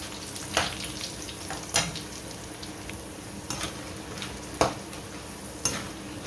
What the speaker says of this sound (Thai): เราก็นำพริกมาทอดนะคะ ซึ่งจะเป็นทั้งพริกเม็ดเล็กแล้วก็เม็ดใหญ่เลยค่ะ